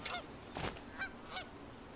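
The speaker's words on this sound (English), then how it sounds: "Oh, let's get the duck!" Honking waterfowl calls from a duck in the video game Skyrim, three or four nasal, reedy calls spaced about a third of a second apart over a faint background hum.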